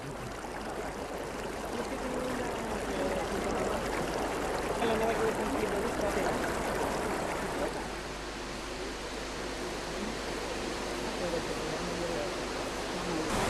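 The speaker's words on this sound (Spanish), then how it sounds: "la lana tiene que ser aclarada con esmero en el río para que quede más limpia y suave" A mountain river near Panticosa flowing steadily as wool is rinsed in it, a constant broad rush and splash of water, close and even, with a faint voice under it at times.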